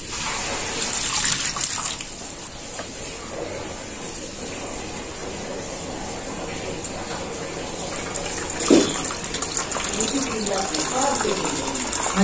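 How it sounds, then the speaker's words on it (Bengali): Water runs steadily over lemon-curdled chhana as it is rinsed to wash out the sourness, a continuous gushing tap-like flow with a brief louder splash near the end, alone without speech. "তো এই টক ভাবটা যাতে চলে যায় সেই জন্য আমি জল দিয়ে কিন্তু এটা ধুয়ে নেব"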